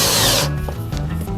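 A power drill drives a screw into wood, with a short loud whir that stops abruptly, followed by quieter rubbing and handling sounds.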